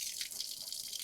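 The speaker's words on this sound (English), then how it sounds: "And look at that, we got water." Water runs steadily from a newly installed outdoor hose bib, a continuous hissing splash of flow at close range with no voices.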